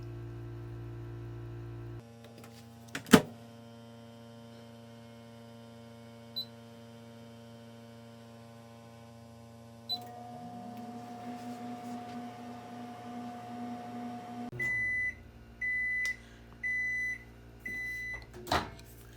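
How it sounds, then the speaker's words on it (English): A microwave oven melting chocolate-flavoured candy wafers in a cup hums steadily through its run, with a few small clicks, a shift in the motor drone, then a series of evenly spaced beeps signalling the end. "we'll put this in the microwave for 30 seconds"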